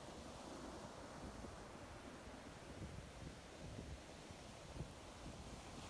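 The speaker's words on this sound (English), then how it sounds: "Be at peace as the waves roll in and out." Ocean waves rolling in and out on a shore, a soft continuous wash of surf mixed with some wind, faint and distant, with no talking.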